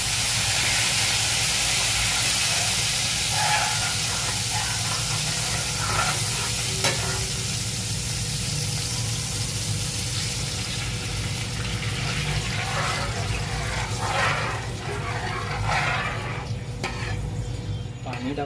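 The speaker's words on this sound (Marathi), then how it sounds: "पेस्ट अगदी भाजून झाल्यावर त्याच्यामध्ये हळूहळू पाणी टाकायचं आहे. हळूहळू टाकायचं, नाही तर पाणी उडतं तेल आणि पाणी मिक्स झाल्यावर." Water trickles slowly into a roasted paste in hot oil for veg manchurian, setting off a loud, continuous close sizzle and hiss with stirring sounds, under a low steady hum.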